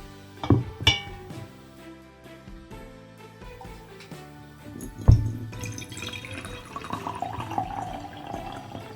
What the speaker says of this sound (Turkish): Şimdi kavanozun içine suyu ve gliserin yağını koyacağım.